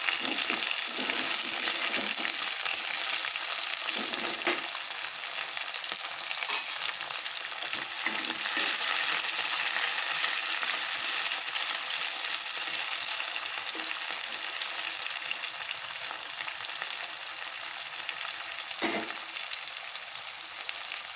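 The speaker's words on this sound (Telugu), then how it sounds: "కొంచెం వేగింది ఇప్పుడు ఇందులోకి టమాటా పచ్చిమిర్చి యాడ్ చేసుకుంటున్నాను" Tomato and green chilies frying in a pan: a continuous loud hiss and sizzle of hot oil, with occasional scraping stirs, steady throughout and without talking.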